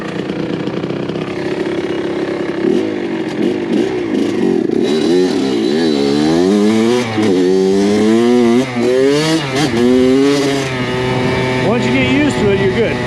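A Kawasaki KX100 two-stroke dirt bike rides through hilly terrain, its engine buzzing and revving steadily up and down in pitch, loud and close throughout with no pauses.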